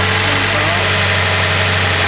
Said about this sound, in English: Listen how healthy this thing is, all right?